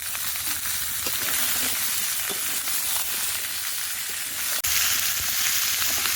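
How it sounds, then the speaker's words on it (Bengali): Cut pumpkin, potato and green peas hit hot oil in a pan already holding fried green chillies, giving a steady broadband sizzle throughout with one brief sharp clatter near the end. "নামার পর এবার দিয়ে দেবো ধুয়ে কেটে রাখা কুমড়ো, আলু, মটরশুঁটি।"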